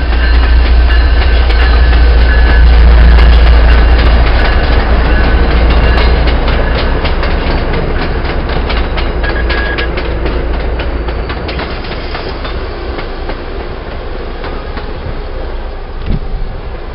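A passenger train runs along the Pan Am Railways line near Ayer, Massachusetts, its locomotive pulling through with a loud, steady rumble and rhythmic clickety-clack of wheels over rail joints, gradually easing off toward the end.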